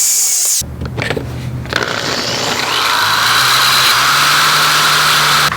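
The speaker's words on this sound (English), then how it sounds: "go ahead and drill it out with a small drill first" Small drill boring a hole in a Honda CB500F motorcycle during custom tail light wiring, a loud close whirring whine that runs steadily for about five seconds after a brief start.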